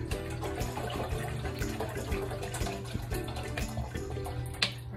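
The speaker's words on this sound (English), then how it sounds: "We're gonna put our waters inside our pot to make it boil." Water pours steadily into a cooking pot, a continuous splashing fill with no talk.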